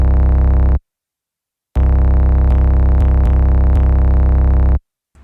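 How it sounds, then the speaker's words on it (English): A heavy, distorted 808 sub-bass tone drones loudly, cuts out briefly, then returns with a few sharp clicks marking new notes before stopping. "Use really strong 808, like very deep, very distorted"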